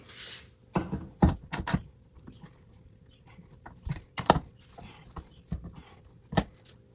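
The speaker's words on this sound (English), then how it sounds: "I can do it the old-fashioned way with a ratchet." A handful of sharp metallic clicks and knocks, irregular and fairly close, with quiet gaps between bursts, as a hand ratchet tightens lag bolts.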